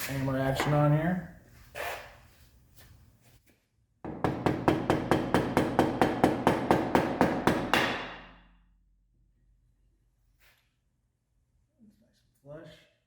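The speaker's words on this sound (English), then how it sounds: "Hammer action on here." Steel hammer blows on a 1970 Porsche 911T transaxle ring out in a fast, even series of about fifteen sharp, loud metallic strikes, preceded by a short burst of speech and followed by near silence.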